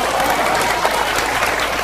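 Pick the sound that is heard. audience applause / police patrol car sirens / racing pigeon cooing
audience applause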